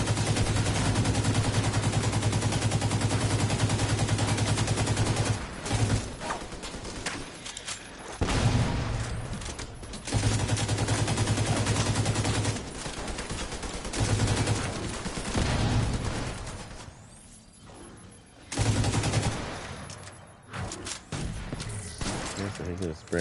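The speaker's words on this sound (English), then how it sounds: "I can sit there and take his onslaught of bullets pretty good" Sustained enemy gunfire from The Division 2 on PS5, bursts of shooting running through most of the stretch with brief gaps, loud and close, over a busy game mix.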